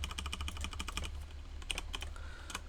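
Quick typing on a computer keyboard during a programming session, a run of light rapid clicks and key taps, fairly faint against a low steady hum, with no talking.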